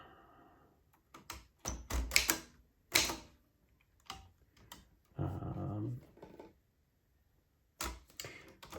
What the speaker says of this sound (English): if we want our accent keys, so we would do an accent there and then an O